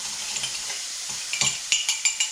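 Bacon sizzling steadily in a pan for candied bacon, with a spoon scraping and stirring through it, sharper clinks and scrapes bunching near the end over the continuous hiss.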